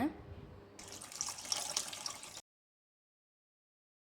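Water pours from a tap or vessel into a pot of chickpea curry in a home kitchen, a steady splashing stream lasting about two seconds before cutting off to silence.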